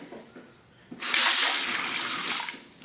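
After a quiet second, a bathroom faucet turns on and water runs steadily into a bowl sink, a close, even rushing stream until the end.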